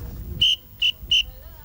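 Three sharp, short blasts of a referee whistle blown by a chef come in quick succession, loud and clear over a faint low rumble.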